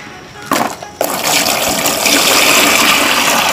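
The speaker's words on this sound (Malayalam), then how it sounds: "അപ്പം തന്നെ നമുക്ക് വെള്ളം പതിയെ ഒഴിച്ച് നോക്കാം" Water is poured slowly into a homemade plastic-lined guppy tank, a steady close gushing splash that starts abruptly and continues.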